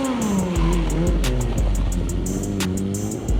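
Motorcycle engine revved hard with too much throttle during a doughnut, a loud continuous roar with rising and falling pitch and repeated bursts of acceleration throughout.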